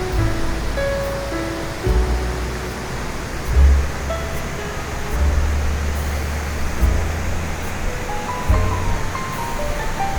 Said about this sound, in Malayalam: താഴോട്ട് അങ്ങനെ നല്ല ഒച്ചയോടുകൂടി അതിൻ്റെ ഒരു ഒഴുകുന്ന ആ ഒരു സൗണ്ട് കേൾക്കാൻ തന്നെ ഒരു ഇമ്പമുള്ളതാണ്.